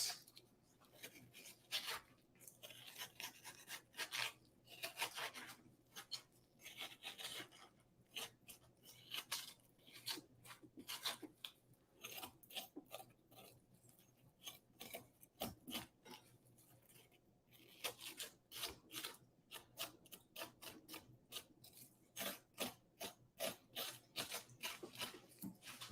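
A carving tool scrapes and shaves the rind of a watermelon being carved into a fruit basket, producing repeated short rasping strokes in irregular bursts, fairly quiet and close, with no talk.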